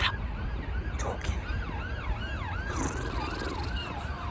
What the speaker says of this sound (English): If that police car would just stop.